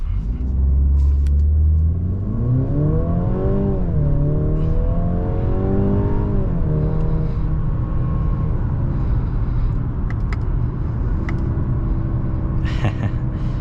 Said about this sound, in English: I'm gonna go ahead and definitely do an acceleration right here.